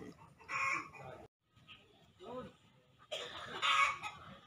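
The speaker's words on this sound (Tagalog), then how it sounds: "So, ayan, yung mga manok niya. Dami. Ayan. Free range yung kanyang chicken." Several free-range chickens cluck and squawk in bursts, with a rooster-like call, nearby and moderately loud in an open outdoor farm setting in Amadeo.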